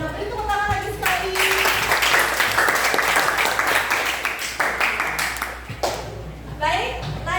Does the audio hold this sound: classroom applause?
yes